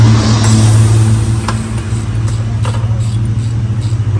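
A car engine runs steadily on a test run after a cracked cylinder head was repaired to cure coolant loss, a loud, constant close-up drone with no voices.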